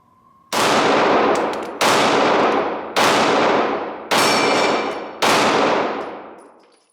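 Five loud, evenly spaced shots ring out from a Glock 45 9mm pistol fired at steel flipper targets, each sharp bang followed by a long decaying ring, near and alone.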